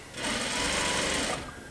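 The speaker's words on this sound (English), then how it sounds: "Go to the corner, plant the needle. Sometimes it stops for you, like that one just did, and then continue sewing." A sewing machine stitches fabric on the corner of an Arts and Crafts chair upholstery piece, running in one steady, loud burst of rapid whirring for over a second before stopping abruptly.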